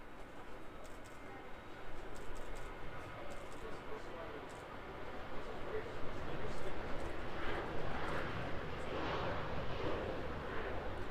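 A Qantas jet airliner takes off at Auckland Airport, a steady broad engine roar that swells and grows louder toward the end, with wind buffeting and people talking over it.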